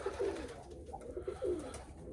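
Pigeons at a pigeon loft set among bushes and a small tree coo softly in a few short, rolling phrases, faint and fairly close.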